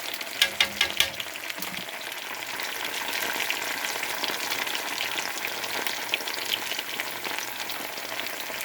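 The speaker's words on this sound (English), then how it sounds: "Just give them a light fry." Food fries in oil in a pan, a dense continuous close sizzle with a few louder bumps at the start, no talking.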